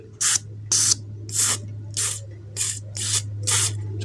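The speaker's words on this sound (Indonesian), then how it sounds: "Semprot dulu seperti ini ya," Seven short, sharp hisses of a spray bottle misting cleaning liquid onto the Bluetooth module of an Ashley audio mixer, evenly spaced and close, over a steady low electrical hum.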